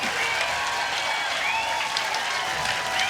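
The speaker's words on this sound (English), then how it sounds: "And the crowd is absolutely loving that." Crowd applause at a championship pickleball match at the US Open, steady dense clapping throughout with a faint voice underneath.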